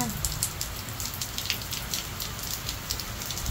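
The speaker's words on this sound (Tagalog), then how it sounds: "it's gonna rain like this. See? Umulan na." Steady rain falling outdoors, a dense continuous hiss of drops with faint patters on surfaces, constant and fairly close throughout.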